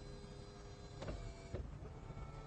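An electric convertible roof with a hard shell tonneau cover cycles through its motion, a faint steady motor whir with two sharp mechanical clunks partway through, heard alone without talk.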